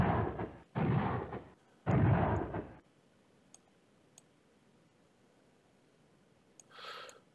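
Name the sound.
artillery bombardment in video game Command Ops 2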